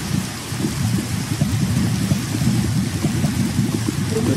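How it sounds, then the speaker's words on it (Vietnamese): Steady rain in a kingdom-building video game, a dense, constant patter with a low rumble underneath, moderately loud and with no voices. "Tôi biết tên này đây là mưa rồi."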